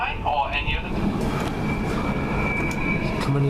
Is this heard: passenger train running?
yes